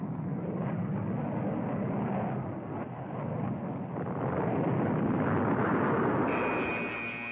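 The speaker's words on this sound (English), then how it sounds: "Within minutes, fighter bombers can reach any area." Fighter-bomber aircraft roar in with a sustained, loud, broad jet rumble that swells and dips slightly before building again, with no voices over it.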